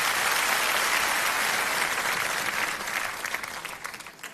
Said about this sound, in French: Mais au début, ils peuvent applaudir.